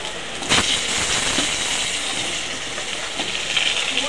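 Cut potatoes hit hot tempering spices in oil, a sudden loud sizzle burst at first that settles into a steady hiss with brief crackles.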